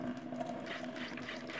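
Hot water running from a kitchen tap, a steady hiss with a low hum beneath, fairly quiet and constant throughout with no voices.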